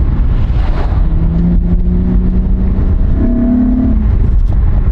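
A car engine revs and pulls away in first gear, its pitch climbing as it accelerates, over a steady rumble of wind buffeting the microphone.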